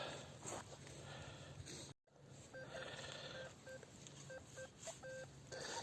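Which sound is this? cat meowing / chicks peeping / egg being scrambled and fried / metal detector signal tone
metal detector signal tone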